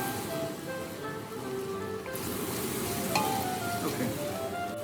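Vegetables and tomato paste sautéing in a pan for New Orleans style red beans and rice, a steady close hiss and sizzle with faint crackles throughout.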